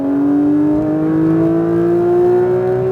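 Porsche 992 911 GT3 engine pulling hard on a racetrack lap, a steady loud drone climbing in pitch as the car accelerates, with no voices over it.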